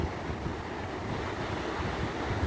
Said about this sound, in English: The water washes up